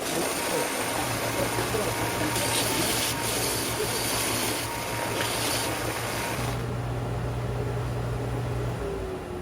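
Wood on an outdoor loveseat is sanded with coarse-grit paper, a steady rasping hiss over a low motor hum that runs close and unbroken throughout.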